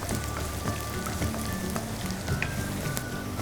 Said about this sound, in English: I love the aroma of frying garlic.